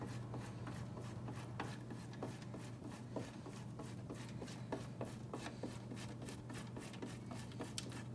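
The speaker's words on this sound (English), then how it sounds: "So I'm just gonna grate it into the flour." Cold butter is grated by hand into a bowl of flour for a Guyanese pine slice dough, giving quiet, rhythmic rasping strokes that repeat steadily and close by with no voices.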